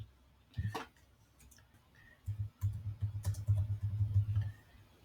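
Computer keyboard typing, a soft isolated click followed by a quick run of light, close keystrokes at a low level in an otherwise quiet room.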